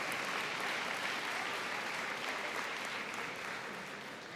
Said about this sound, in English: One more round of applause for Ethan.